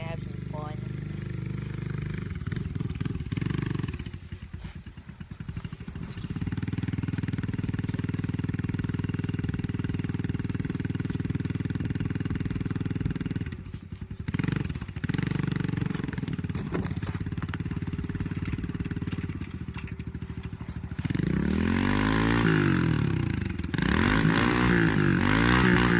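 Motorbikes ringing out as riders race for fun, engines droning and revving steadily throughout with some surging revs near the end.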